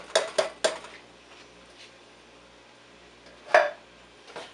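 A utensil clanks against a pot while fire-roasted tomatoes are mixed into chili: three quick metallic scrapes, a quiet pause, then another sharp knock and a softer clink, with no talking.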